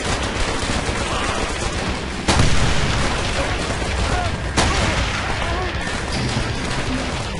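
Stick grenade explosions in Call of Duty: World at War, set against dense continuous battle noise with gunfire, two sharp loud blasts landing a couple of seconds apart.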